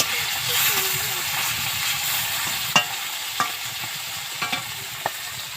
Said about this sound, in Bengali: চলো মাছটা ভেজে নিই দেখো মাছগুলো আমি এখন উল্টে নেবো